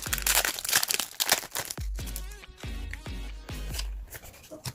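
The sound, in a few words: tearing open a Pokémon card booster pack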